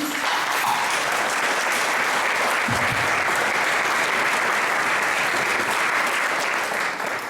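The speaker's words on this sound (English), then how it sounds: "So a big round of applause for Jackie, please" Sustained applause from an audience at the Queen's Hall studio annex, dense steady clapping held at a constant level throughout with no voices over it.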